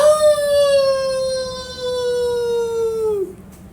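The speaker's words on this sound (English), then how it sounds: "Howling started all around the mountains." A long, loud wolf-like howl rises over mountains in the cold wilds of Überwald, one sustained wavering cry that slowly slides downward for about three seconds before breaking off abruptly.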